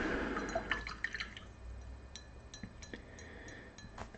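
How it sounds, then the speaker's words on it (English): Paintbrush swished and rinsed in a water cup during miniature figure painting, with soft drips and light clinks against glass, quiet and close, repeated irregularly. "We're gonna rinse out this brush."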